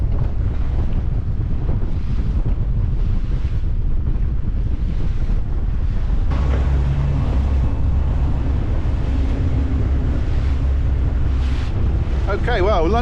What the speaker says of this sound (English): the wind is really picking up actually